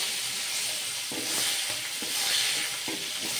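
Fish frying in oil in a pan, a steady broadband sizzle under occasional soft spatula scrapes and stirring knocks, close and continuous with no talk.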